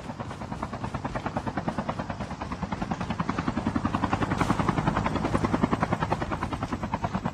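A helicopter in the mobile game Call of Duty Mobile thuds steadily and loudly, its rotor chopping in a fast even rhythm that swells slightly and stays close throughout.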